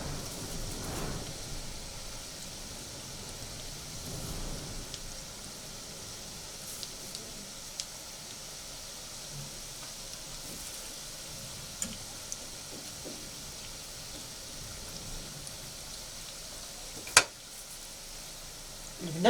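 Almond briouats frying in hot oil, a steady soft sizzle and bubbling that continues throughout, with a few faint clicks and one sharp knock near the end.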